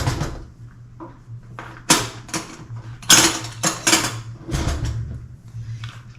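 Clanks and scrapes of a large spoon digging ketone-friendly chocolate ice cream out of an ice cream machine, a few sharp metallic knocks separated by quieter pauses.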